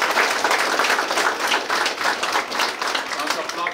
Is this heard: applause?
yes